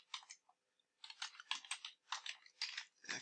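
Quick, light clicking of computer keys in uneven bursts with short pauses between, close and fairly quiet.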